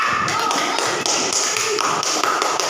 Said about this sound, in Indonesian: kita beri aplaus untuk kelompok kuning.